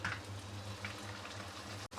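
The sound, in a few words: puris frying in hot oil in a kadhai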